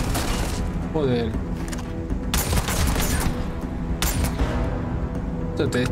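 Gunfire in the space game Starfield crackles in bursts of shots and booms over a low, busy game background, while a player talks over the action.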